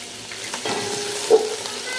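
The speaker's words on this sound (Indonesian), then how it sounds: "Masukkan daun kari ya, dengan serai" Curry leaves and lemongrass sizzling in hot oil in a pan, a steady bright crackling hiss with a brief louder pop partway through.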